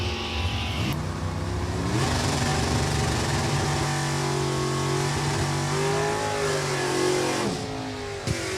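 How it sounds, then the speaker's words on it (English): A 1983 Chevrolet Camaro in G-Stock automatic makes a drag racing run at New England Dragway, its engine roaring loudly and continuously as it climbs through the gears with rising and falling pitch. "Barsamian G-Stock automatic out of Boylston, Mass. with his 83 Camaro."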